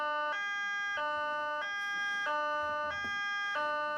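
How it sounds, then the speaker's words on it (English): A high-low evacuation siren alternates steadily between two tones, each lasting about two-thirds of a second, clear and moderately loud with no voices over it. "it's on the high-low siren is kind of the state standard now"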